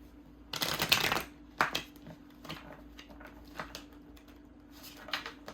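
A burst of tarot card shuffling riffles loudly for about a second, followed by a few scattered taps and soft card handling against a low hum.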